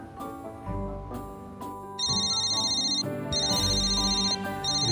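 A mobile phone ringtone chirps in a cinema, a repeating electronic melody entering after about two seconds over music already playing, loud and clear with no talk.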